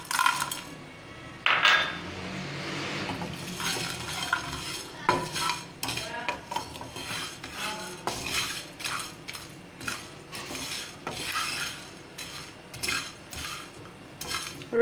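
Whole spices and red chilies (green cardamom, mace, cloves, cinnamon sticks) roast in a pan for chicken masala curry, with soft sizzling under repeated light stirring scrapes and small rattling clicks of spices against metal.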